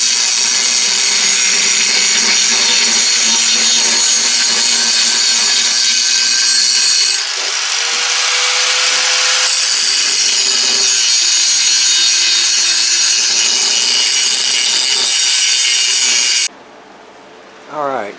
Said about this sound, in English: is grind this weld from around here and get this off of